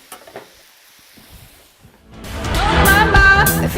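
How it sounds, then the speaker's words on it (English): Eggs dropped into hot bacon grease for breakfast tacos, quiet clatter at first, then a loud, close sizzle swelling up and holding steady. "we're going to take a little bit of this grease"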